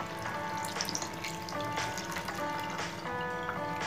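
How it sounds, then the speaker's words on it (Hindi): A cup of water is poured into paneer masala frying in a pan, giving a steady close hiss and sizzle with a faint liquid splash and no talking. "अब मैं इसमें ऐड कर रही हूँ 1 कप पानी।"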